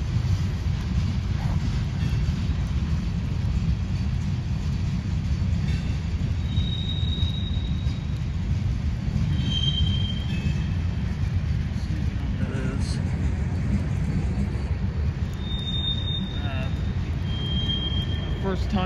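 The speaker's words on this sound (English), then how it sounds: "There might be another engine coming through the back." A train rolls steadily along a railroad track, with a loud continuous low rumble of wheels and a few thin, high wheel squeals, heavy wind buffeting the microphone throughout.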